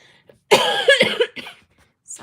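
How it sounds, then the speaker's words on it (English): A burst of harsh coughing, close and loud, a few rough hacks in quick succession followed by a short pause and a fainter trailing sound. "Sorry about that, my cough."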